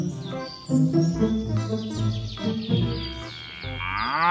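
Cartoonish cow mooing from a dinosaur park building video game, several long moos in a row, loud and close, with game music underneath.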